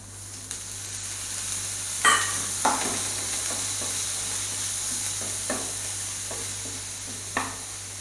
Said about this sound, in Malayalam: ഇതിലേക്ക് നമുക്ക് കുറച്ച് വെള്ളം തളിച്ച് കൊടുക്കാം.